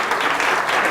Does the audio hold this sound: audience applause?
yes